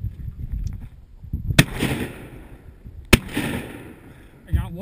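Two sharp, loud shotgun blasts ring out a little over a second apart during a duck hunt at a hunt club in Richmond, Illinois, each followed by a short echoing tail, with low outdoor noise and a voice at the end.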